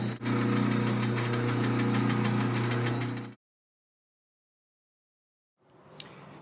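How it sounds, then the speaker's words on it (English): A drill bores a small decorative hole in a cast aluminum rim center cap, a loud, steady motor whine with a metallic buzz for about three seconds, then silence and a faint rustle with a small click. "Now I also want to drill a hole in the center of these as well, just a small one for decoration"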